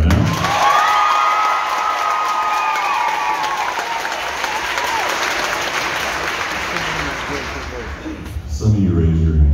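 Loud crowd applause and cheering at an a cappella concert, a dense roar of clapping and whoops that fades slightly before a voice comes in at the end.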